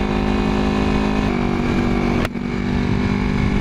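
A 1981 Yamaha XS400 Heritage motorcycle engine drones steadily while riding at speed with the choke slightly on, with a brief dip in the note partway through, close and loud.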